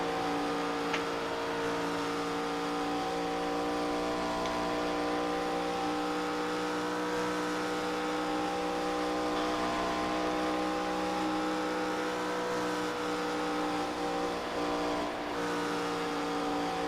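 A race car engine drones steadily at a distance in a Friday night challenge race, a constant humming tone with slight shifts in pitch as the throttle is opened, heard alone.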